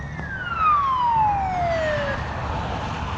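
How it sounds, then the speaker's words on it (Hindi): An emergency ambulance siren passes at speed on a highway, a single falling wail that sweeps down in pitch as it rushes by over steady road noise, then fades into the traffic rumble. "एक इमरजेंसी एम्बुलेंस निकली है पूरी 150 की स्पीड में।"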